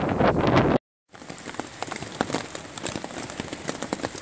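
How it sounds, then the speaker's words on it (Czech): Heavy rain pours down outdoors on a trip near the sea coast in France, a dense, steady hiss of drops close by, broken by a brief silent gap before resuming just as strong. "tak začalo pršet jako blázen"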